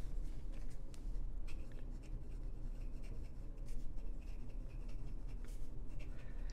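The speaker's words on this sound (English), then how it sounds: "Let's do some live writing here." Kakimori nib pen writing on paper in a hardcover notebook, a close, continuous scratchy rasp of the nib dragging across the page with small rhythmic strokes and no talking.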